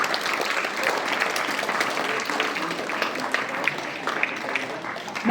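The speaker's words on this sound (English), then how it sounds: "Once again give them big round of applause." Sustained applause from a school audience for handwriting competition winners, a dense even patter of many hands clapping throughout at a steady level.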